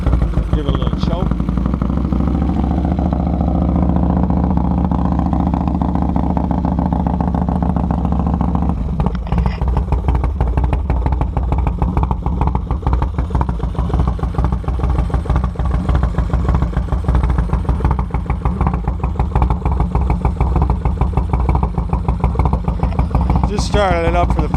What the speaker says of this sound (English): I'm going to start it up now. Let you hear what it sounds